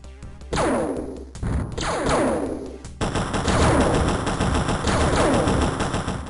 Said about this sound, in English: there is a good mixture of effects from aerial combat to soldiers getting shot